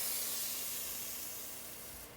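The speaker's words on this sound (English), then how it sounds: "That internal frame coating is coating the entire," Steady pressurized hiss of an aerosol spray wand pushing Eastwood internal frame coating inside a metal tube, fairly faint and continuous, slowly tapering toward the end with no voices.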